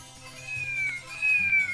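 A cat meows twice in a row, clear and close, each call a rising then falling wail with no other sounds around it.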